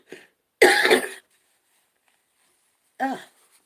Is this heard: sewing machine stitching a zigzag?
no